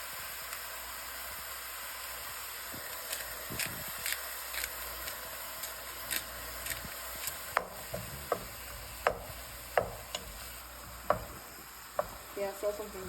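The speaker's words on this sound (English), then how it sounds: "now we're going to cook the ground beef" Ground beef sizzles steadily in a frying pan, a soft continuous crackle broken by sharp scrapes and stirs that grow more frequent toward the end, with no talking over it.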